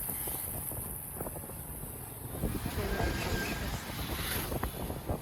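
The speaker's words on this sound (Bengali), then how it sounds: "দেখো এত বাতাস, এই যে দেখো" Strong gusting wind roars outdoors under a cloudy sky, buffeting the microphone in a steady rushing blast that swells louder partway through, with no talk over it.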